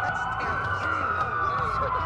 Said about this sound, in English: That's a lot of sirens for a blockhead.